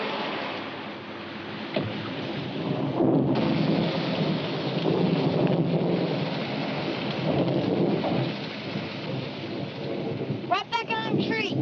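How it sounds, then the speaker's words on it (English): Rain falling steadily with rolling thunder outdoors, a continuous wash of drops and low rumbles swelling and fading, with a brief voice near the end. "We're gonna beat the rain."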